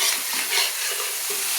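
Spices for potol chingri (pointed gourd with prawns), with Kashmiri chilli powder, turmeric and salt, being stirred and fried in a pan, giving a steady close sizzle with scraping stir strokes and no talk.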